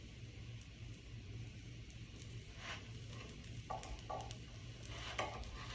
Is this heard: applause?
no